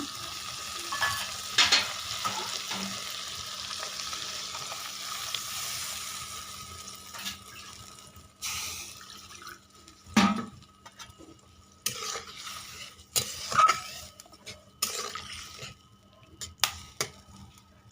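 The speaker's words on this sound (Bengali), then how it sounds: "মশলাটা আমি কষে নিয়েছি আর মশলা থেকে দেখো তেলটাও ছেড়ে নিয়েছে এবার আমি এর মধ্যে দিয়ে দেবো পানি" Fried spice masala for a salted fish curry sizzles in a pan, broken by sharp bursts as water is added and stirred in, with clatter from the utensil in a quiet kitchen and no talk.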